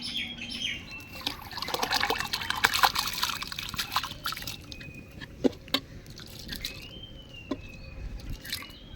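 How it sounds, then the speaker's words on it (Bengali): Soaked rice goes into a pot of water with cloves, cardamom and salt for egg biryani, heard as close splashing, pouring and trickling water with a few soft drips. "তো আমাদের ভেজানো চালটা এবার দিয়ে দিচ্ছি।"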